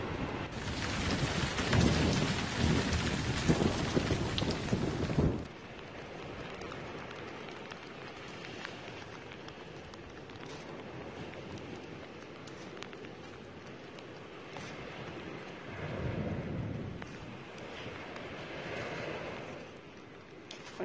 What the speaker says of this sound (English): And it's starting to rain like crazy.